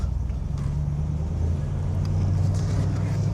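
A 1969 Oldsmobile 442 W-30 rated around 360 horsepower cruises along with a steady low engine drone and no speech, heard from inside the car at an even level throughout.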